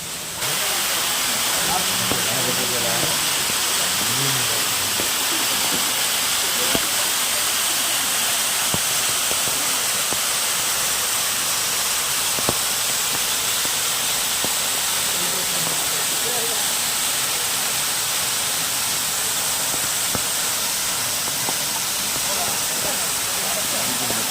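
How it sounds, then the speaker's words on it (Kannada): Manikyadhara waterfall in Chikkamagaluru, water pouring off rock, gives a steady broad rushing hiss throughout, with someone talking over it at moderate level. "ಮಾಣಿಕ್ಯದಾರ ವಾಟರ್ ಫಾಲ್ಸ್, ಒಂದು ಕಲ್ಲು ಬಂಡೆಯಿಂದ ನೀರು ಬೀಳ್ತಿರೋಂಥದ್ದು"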